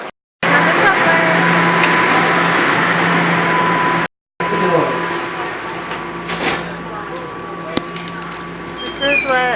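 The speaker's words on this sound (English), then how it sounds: "This is what the subway train looks like." Riding a Toronto subway train, a steady hum and rattle of the moving car fills the interior, interrupted by two brief gaps, with a faint tone and sharp clicks.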